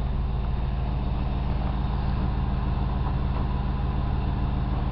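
A 1985 Buick LeSabre Limited Collectors Edition idles after a cold start, just kicked down from fast idle: a steady, loud, close engine rumble with constant low-end throb and no voices.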